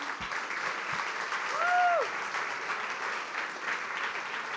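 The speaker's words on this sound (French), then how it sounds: "ils méritent une grande main d'applaudissements aussi" A crowd applauding steadily throughout at a corporate event, dense clapping at moderate distance, with a brief whistle-like tone rising over it midway.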